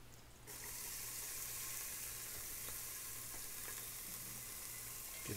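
Pieces of chicken for a vindaloo sizzle steadily in hot oil in a pan as they brown, a dense continuous frying hiss with faint scrapes of stirring, no voices over it.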